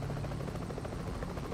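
Rescue helicopter in Euro Truck Simulator 2, a steady rapid rotor chop with a low engine hum, loud and continuous.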